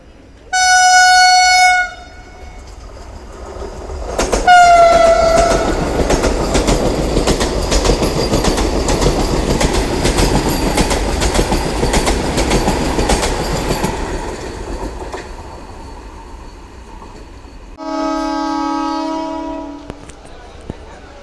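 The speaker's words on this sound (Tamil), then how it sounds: "சென்னை சென்ட்ரல்ல இருந்து விஜயவாடா போகிற வந்தே பாரத் எக்ஸ்பிரஸ்." A Vande Bharat Express from Chennai Central to Vijayawada passes close by, opening with a long loud horn blast and a second horn as it rushes past with a roaring rumble and clatter, then a final horn near the end.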